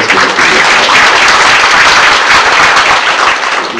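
Loud, dense applause from an audience at a book launch event, steady broadband clapping close and continuous for a few seconds with no talking over it.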